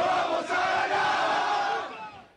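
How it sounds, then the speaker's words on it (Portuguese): Football fans celebrating a title win, a distant stadium crowd roaring and chanting in a continuous, swelling mass of voices for a couple of seconds. "Festa dos torcedores"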